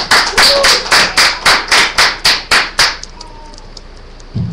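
Loud hand clapping at a gathering, about ten sharp, evenly spaced claps, then quiet.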